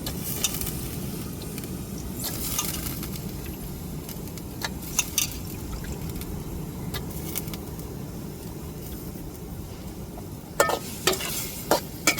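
Steady sizzling of squid frying in a hot pan, with occasional stirring clinks and scrapes, no talking.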